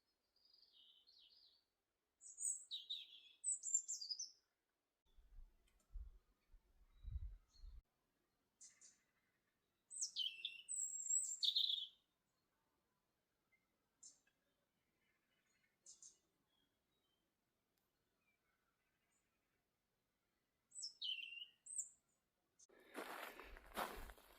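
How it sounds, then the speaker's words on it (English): Birds in a quiet garden give faint, sparse chirps and short tweets in scattered bursts, with long near-silent gaps between them and a few soft low thumps. "just listen to the birds"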